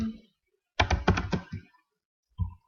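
Keystrokes on a computer keyboard: a quick burst of several close clicks and taps, then a single thunk after a short pause, in an otherwise quiet room.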